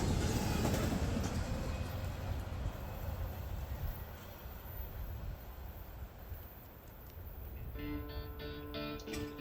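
A freight train with double-stack cars rolls past at close range, a steady loud rumble of wheels and wagons on the rails that holds throughout, with a faint squealing ring appearing near the end.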